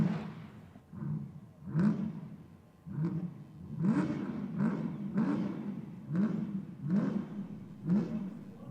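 Supercharged drag racing car at Sydney Dragway, its engine roaring and revving in repeated surging bursts roughly every second while the supercharger winds up, heard from a moderate distance.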